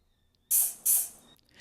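A person's voice imitates a hi-hat with two crisp, breathy "tss" bursts in quick succession, recorded close and alone, for a drum sample.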